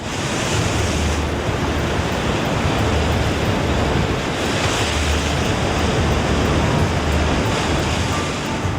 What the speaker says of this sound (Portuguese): Ondas violentas bombardeiam a fortaleza de rochas dos lobos marinhos.